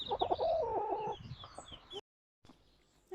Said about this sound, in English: This is our solitary hen, who lives by herself.